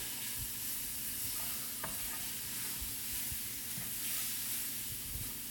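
Roux for a New Orleans-style crawfish pie sizzles and hisses steadily in a pan, close and continuous, with occasional soft stirring scrapes underneath.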